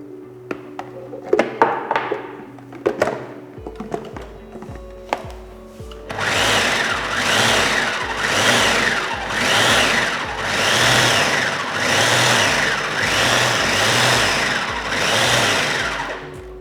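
A kitchen blender grinds canned chickpeas for sweet potato falafel. A few sparse clicks and knocks come first, then a loud, continuous motorized grinding with a pulsing, churning rhythm that runs to the end.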